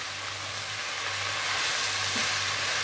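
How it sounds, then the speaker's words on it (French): Pork and courgettes frying in a wok for Thai basil pork, a steady broadband sizzle and hiss with a low hum beneath, stirred throughout without talk. "Je mélange bien."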